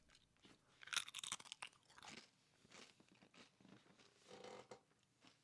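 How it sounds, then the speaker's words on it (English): Old Dutch cheese snacks crunch loudly between the teeth, close up, in several bursts of brittle chewing with pauses between bites and no talk. "Nice solid crunch."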